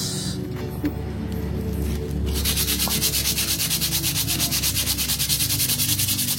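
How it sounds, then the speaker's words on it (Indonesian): Coarse sandpaper rubs steadily against a squealing motorcycle or car brake lining in rapid, rhythmic back-and-forth strokes. The sound is close, harsh and gritty, and it grows louder and more even partway through. "Kita akan pakai ini untuk amplas yang kain rem. Nah kita coba amplas."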